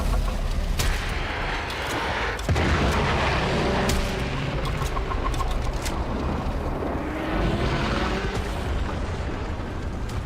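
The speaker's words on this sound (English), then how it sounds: "There should be useful detritus falling from the explosion." Explosions in the Warframe video game roar as a continuous wall of booming blasts and crackling debris, loud and dense for about ten seconds, with a few sharper impacts punching through.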